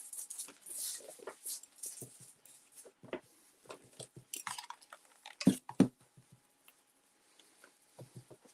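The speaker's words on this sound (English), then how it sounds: "my dog's chewing up the tissue paper over here" A dog chewing and tearing up tissue paper indoors, with scattered soft crinkly rips and wet chewing bursts at close range, a couple of louder snaps in the middle, and quiet gaps between.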